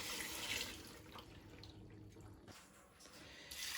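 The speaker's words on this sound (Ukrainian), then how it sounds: "І тепер я наливаю сюди 2 літра водички." Water runs steadily from a container into a multicooker while borscht is being prepared, a faint continuous pouring hiss with a short break near the end before the flow resumes.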